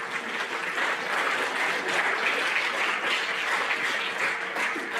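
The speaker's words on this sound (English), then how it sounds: "We can hold the applause to the end" Sustained applause from a school audience at an eighth grade awards program, steady dense clapping throughout with no voices over it.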